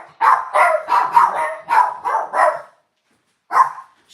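A dog barks in a quick run of about seven loud, close barks, then falls silent before one final bark.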